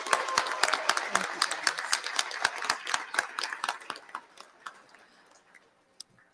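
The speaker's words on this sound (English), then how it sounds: "Can we have a round of applause for that wonderful band?" Audience applause at a 2023 college convocation ceremony honoring the band, a dense burst of many hands clapping that thins out and fades over several seconds, ending with a few scattered claps.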